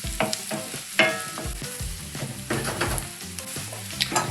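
Onions frying in butter that has just started to brown in a pan for corned beef hash: a close, crackling sizzle broken by repeated clatters of stirring.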